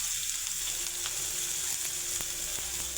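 Onions sizzle in hot oil with mustard seeds and a pinch of turmeric for a radish stir-fry, a steady close crackle and hiss with no talk.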